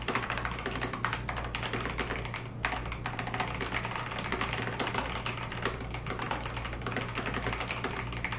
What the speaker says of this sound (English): Let's do a little type test.